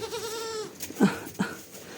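Goat kids bleat with a wavering, nasal cry at the start, followed by a couple of shorter bleats and soft rustling nearby.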